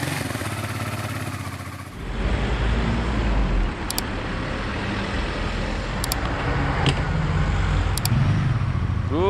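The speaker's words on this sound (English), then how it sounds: "from the traffic of Banja Luka from Bosnia" Road traffic in Banja Luka, Bosnia: passing cars and motor vehicles rumble nearby in a continuous roar, with engine noise swelling and fading as vehicles move past.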